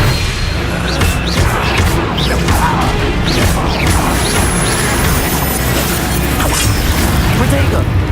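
Expelliarmus disarming spell in a Hogwarts Legacy video game duel: a busy run of sharp magical cracks, smashes and booming impacts repeats for several seconds over loud, constant combat noise, with voices mixed in.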